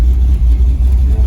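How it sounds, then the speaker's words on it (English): A carbureted Chevrolet El Camino engine idles steadily and loudly up close at operating temperature, a deep continuous rumble with a slight uneven pulse, no voices. "I'm just letting the car run right now"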